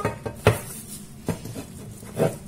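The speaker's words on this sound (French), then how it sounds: "Je prends mon assiette de présentation." A presentation plate for a frozen Yule log cake is picked up and set down, giving a few sharp ceramic clinks and knocks with short pauses between them, close by and fairly quiet.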